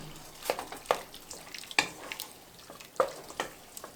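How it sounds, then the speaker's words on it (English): Honey is stirred into a pear chutney in a pot, giving a few soft scrapes and sharp spoon taps against a quiet, faintly bubbling background. It sounds close, with no talk. "So we're going to get that honey in there, mix it around,"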